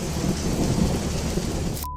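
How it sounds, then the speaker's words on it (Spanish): A heavy thunderstorm roars outdoors, with dense, loud rain pouring down and deep rolling thunder running underneath, before the sound cuts off abruptly near the end. "quedarse bajo los truenos y los relámpagos con un teléfono para grabar este milagro"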